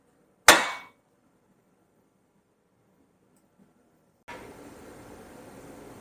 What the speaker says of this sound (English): You're going to get your hammer, you're just going to hit it here, and the track rod end should just pop out.